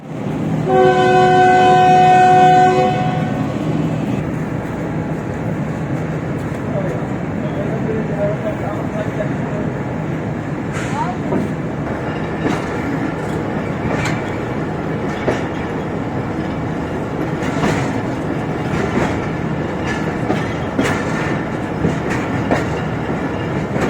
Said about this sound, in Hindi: फिर ट्रेन यहाँ से रवाना हुई